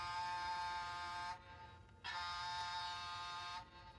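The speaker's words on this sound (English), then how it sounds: "Can you please press the boat button and hear the sound?" A boat horn honk from a children's sound book button plays as a flat, buzzy electronic tone, held for over a second, briefly broken, then sounding again, close and clear with no talking.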